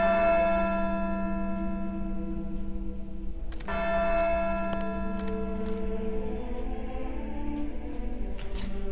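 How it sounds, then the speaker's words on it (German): A bell rings in the Syberia 2 video game, with a sharp strike followed by a sustained ringing tone that fades slowly, and a second fainter strike later over a steady ambient background. "klingel mal an der Glocke."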